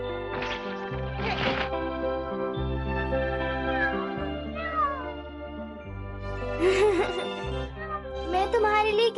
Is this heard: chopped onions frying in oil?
no